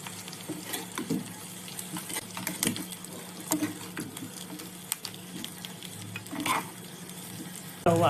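Chopped onion and grated coconut fried and stirred in a pan for rava uttappam: a soft, continuous sizzle broken by scraping spoon strokes against the pan, close and moderately loud, with a faint low hum underneath.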